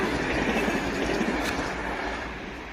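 A train rumbles past in snowy rural Finland, a loud continuous roar of wheels and cars on rail, fading slightly toward the end.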